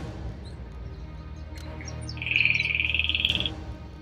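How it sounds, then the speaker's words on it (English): An Inca jay gives a single loud, rasping buzzy call lasting about a second, standing out clearly over a low background murmur and a few faint chirps from other birds. "This is an Inca jay."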